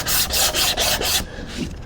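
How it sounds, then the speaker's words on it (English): Quick rhythmic rasping strokes of a sanding block on a cherry wood drawer's edges, about five brisk passes close by, then a softer scrape. "we just take a sanding block and we just knock off the"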